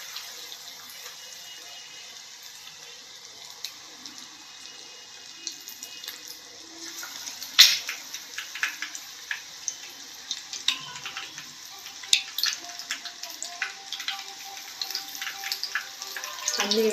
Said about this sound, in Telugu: మనం తీసుకున్న ఎగ్ స్లైసర్స్ని ఈ విధంగా శనగపిండిలో డీప్ చేసుకొని ఆయిల్ వేసి ఫ్రై చేసుకోవాలి